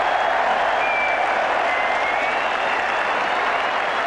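A cricket crowd at an England Ashes Test roars and applauds, a dense, loud and steady wash of clapping and cheering that fills the whole stretch without a break.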